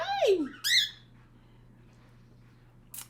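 A pet bird squawks angrily in two harsh, loud bursts close by, followed by a quieter stretch and a brief sharp call at the end.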